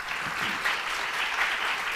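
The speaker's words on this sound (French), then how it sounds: "je vous propose d'applaudir nos intervenants" A conference audience applauds its speakers at a French urban-planning event, a steady, dense wash of clapping from a large crowd that holds evenly throughout without any voices.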